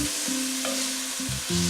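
Onions and garlic sauté together in a pan, a soft continuous sizzle close by with a low tonal hum underneath and no talking.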